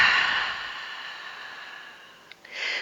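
A long, breathy exhalation during a Pilates exercise trails off into quiet, followed by a couple of small clicks and a fresh rush of breath at the end.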